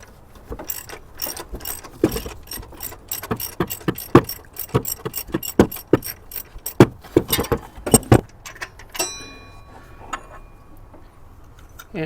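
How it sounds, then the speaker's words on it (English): Ratchet clicking in quick bursts while a serpentine belt tensioner pulley bolt is backed off, many sharp close metallic ticks with short pauses, ending in a softer metallic rattle of parts being handled. "Now I'll change to a a ratchet, just because that's faster."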